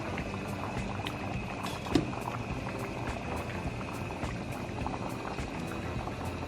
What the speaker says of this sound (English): I'm gonna let it boil for a little bit